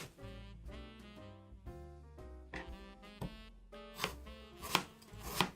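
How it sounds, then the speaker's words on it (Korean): A knife slices an onion as thinly as possible for banh xeo, making a quick series of crisp, close chops over steady background music. "최대한 얇게 양파를 썰어 주어야 나중에 덜 찢어져요"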